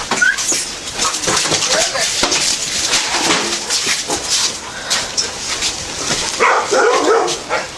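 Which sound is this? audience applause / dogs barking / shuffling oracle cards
dogs barking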